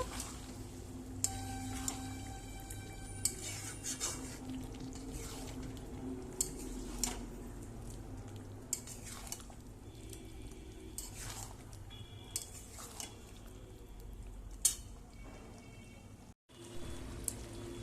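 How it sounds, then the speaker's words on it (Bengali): Chili chicken in tomato sauce being stirred in a pan, with faint scraping and light clinks of a utensil against metal repeating irregularly over a quiet, steady background. "এবার একটু আমি ভালোভাবে নেড়ে নেব"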